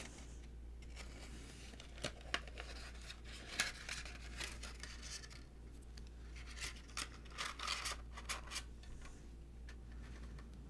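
A plastic product instruction insert is handled up close, giving faint crinkles, rubs and scratchy rustles in irregular bursts with a few sharper taps over a quiet background hum.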